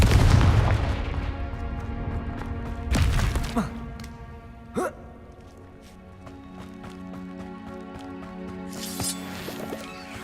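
Confringo fire spell blasts in Hogwarts Legacy, a few explosive booms and crackling impacts over game music and ambience, with one big burst near the start and smaller hits after.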